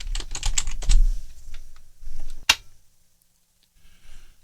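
Rapid keystrokes on a computer keyboard as a password is entered during a WordPress installation, a close burst of clicky taps for about two seconds, one sharp louder key strike, then near silence with a few faint taps at the end.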